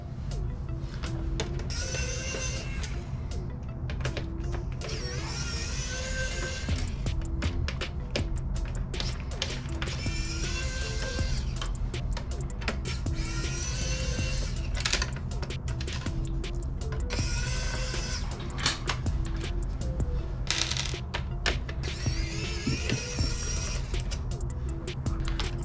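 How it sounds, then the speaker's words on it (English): Screws being backed out of a PS3 60GB/80GB (CECHA01/CECHE01) motherboard with a screwdriver, heard as a steady run of small mechanical clicks and ratchet-like ticks over a constant background hum, close and fairly quiet, with no speech. "we're gonna remove these screws that hold the motherboard in"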